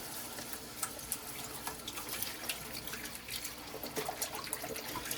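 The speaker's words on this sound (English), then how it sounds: "we're going to add the 2 boxes of beef stock, which is 32 ounces" Beef stock poured from cartons into a stew pot in a home kitchen: a steady liquid trickle and splash with small irregular splatters, close and fairly quiet, no voices.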